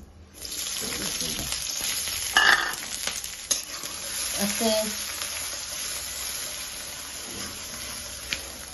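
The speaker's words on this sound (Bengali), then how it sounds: "তাই আমি কড়াই দিয়ে দিচ্ছি, তেল দিয়ে দিই, ডিম ভাজি করিতে" Eggs frying in hot oil in a wok, a strong steady hiss and sizzle starting after a brief quiet moment, with clatters of stirring and a spoken word early on.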